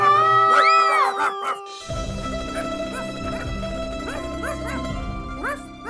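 A dog barks in short, sharp bursts amid a noisy, busy mix of tonal background sounds that continues throughout.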